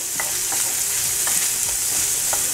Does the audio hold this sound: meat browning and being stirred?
yes